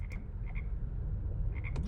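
Frogs croak from a UFO catcher machine in a PS4 video game, a steady low croaking chorus with repeated higher chirps rising above it, close and continuous with no talking.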